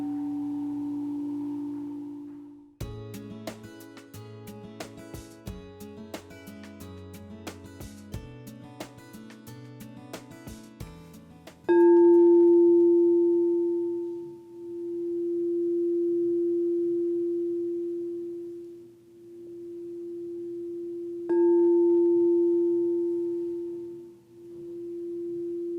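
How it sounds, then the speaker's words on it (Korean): During meditation, a metal singing bowl is struck several times, each strike ringing out as a long, pure, sustained hum that slowly swells and fades. Clattering tinkling notes come just before the first ring. "소리의 공명을 느끼며 몸과 마음을 이완하는 싱잉볼 명상"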